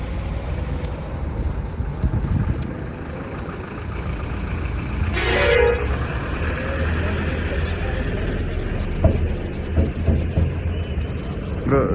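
A day-coach bus passes along a Nepali road, its engine rumbling steadily amid traffic noise, with a brief horn blast near the middle.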